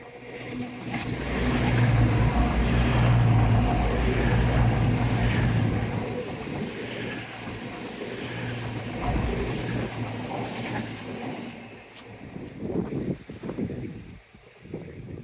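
A train passes during a warm early-May outdoor stroll. A low rumbling roar swells for several seconds and then fades under breezy wind noise.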